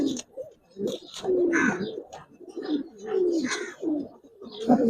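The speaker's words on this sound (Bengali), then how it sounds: "এটাই ডাকবে। এই যে দেখেন, ডাকটা দেখাই দেই।" Giribaz pigeon in a loft, giving a series of close, throaty rolling coos in repeated phrases with brief pauses between them.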